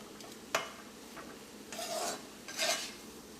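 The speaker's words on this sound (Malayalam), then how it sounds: "ഇതെല്ലാം കൂടിയിട്ട് ഒന്നുകൂടി നമുക്കൊന്ന് മിക്സ് ചെയ്യാം." A spoon stirs spicy potato masala with fresh coriander leaves in a pan, a few soft scraping strokes and a light clink, quiet and close with no talking.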